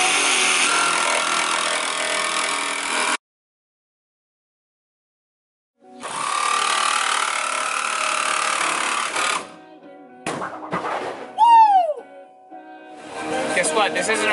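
Saw cutting through a vinyl window frame taped to limit rattling, heard in two loud, sustained bursts of buzzing cuts separated by a silent gap, followed by scattered knocks, a brief squeal and a final stretch of cutting.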